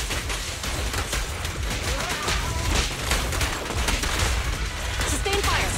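Dense, continuous gunfire in a Zenless Zone Zero battle, rapid overlapping shots and bursts crackling loudly throughout, with combat effects and voices mixed in.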